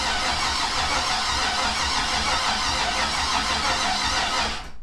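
A turbocharged 5.3 engine in a Mustang cranks over continuously without firing, giving a loud, steady starter churn up close that cuts off at the end.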